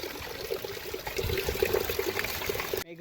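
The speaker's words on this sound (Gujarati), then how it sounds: "વરહે છે આજ ઝરમર ઝરમર" Light drizzle falls during an unseasonal summer shower in a Gujarat village, a steady soft patter and trickle of water that continues evenly, then cuts off abruptly near the end.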